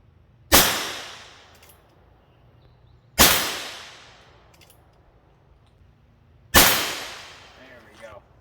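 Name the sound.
Heritage Rough Rider revolver firing Winchester Game and Target ammo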